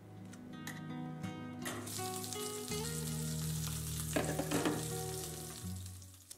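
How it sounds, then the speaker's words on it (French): Salmon fillet, salted and peppered, browning in olive oil in a pan: a steady close sizzle and crackle throughout, with some clinks of utensils and shifting over the frying. "un peu d'huile d'olive dans une poêle à chauffer va venir dorer un pavé de saumon salé et poivré"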